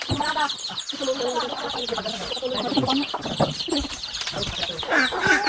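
A chicken clucks and squawks while being caught by hand outdoors, close and continuous under overlapping talk and voices.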